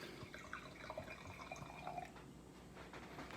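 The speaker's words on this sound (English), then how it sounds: "Now, we'll pour this wine now," Red wine that spent 11 months in a barrel is poured from a bottle into a glass, a soft continuous liquid trickle with light splashes, quiet and close, with no talking.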